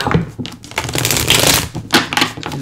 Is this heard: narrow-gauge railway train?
no